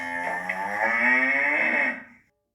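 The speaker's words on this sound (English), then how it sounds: "C is for cow." A cow gives a single long, loud moo, rich and drawn out, swelling in the middle before tapering off into silence.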